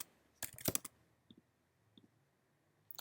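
A few quick clusters of key clicks from a computer keyboard, faint and close, with a short burst of typing followed by a couple of isolated taps in a quiet room.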